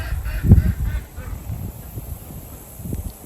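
Ducks honk a few times, one loud honk early then softer calls near the end, outdoors where a post and gate are being set up.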